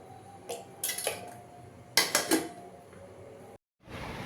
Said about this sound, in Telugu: స్టవ్ నుంచి ప్యాన్ పెట్టుకొని ఆయిల్ వేయాలి